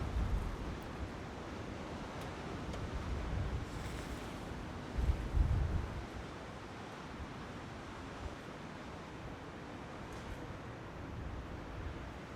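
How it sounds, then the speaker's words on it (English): Strong seaside wind blows steadily and roars, partly muffled by a Røde Blimp windshield, with a few louder gusts and a broad surf-like rush throughout and no talking. "It really is extremely windy out here right now."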